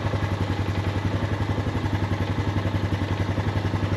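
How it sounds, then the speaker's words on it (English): An ATV engine runs steadily at idle just after starting, with a strong low pulsing throb and mechanical clatter, close and loud with no talk. "Start it right up."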